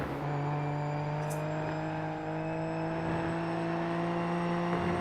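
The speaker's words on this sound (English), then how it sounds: "I was just listening to Watson's car there" Steady high-pitched engine whine of a sim racing car at Hockenheimring holding a constant note, with a slight dip partway through, continuous and fairly loud.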